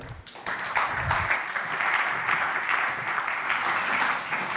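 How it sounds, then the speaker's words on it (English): Conference audience at DLD gives a warm round of applause for a CrowdStrike co-founder, sustained dense clapping throughout with a slight swell early on and no talk over it. "please give a warm round of applause to Dmitry Alperovitch"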